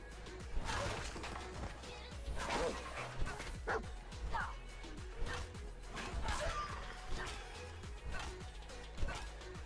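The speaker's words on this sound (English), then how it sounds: "that's my dog." A dog barks and yips indoors, giving several short, sharp woofs and a faint whimper spread across the clip, with a low background hum under them.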